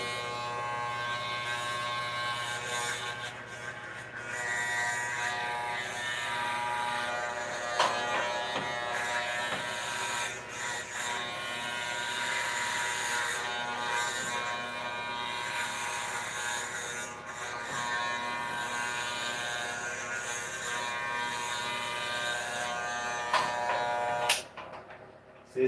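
Electric hair clippers run with a steady close buzz through a home haircut, a continuous motor drone lasting throughout with no talk, cutting off abruptly near the end.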